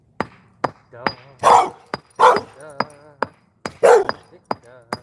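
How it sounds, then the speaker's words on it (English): Outdoors, sharp hammer-like knocks repeat at intervals, broken by a few loud, gruff barks from a big dog, close and clear. "Big dog."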